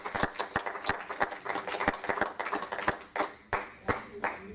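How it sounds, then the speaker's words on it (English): Church congregation clapping for Jesus: sharp, roughly rhythmic handclaps, close and clear, with a few uneven hits and some louder claps near the end, in a fairly quiet room. "Clap for Jesus now."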